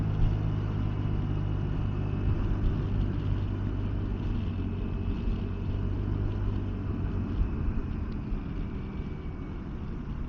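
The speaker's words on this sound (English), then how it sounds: "riding the 2020 Vespa GTS 300 HPE today" A 2020 Vespa GTS 300 HPE scooter engine hums steadily while riding along a curving road, a constant low drone mixed with wind rumble and no pauses.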